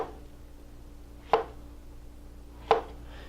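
A knife slices through plantain on a cutting board with two sharp, isolated knocks about a second and a half apart, crisp and close against a quiet room.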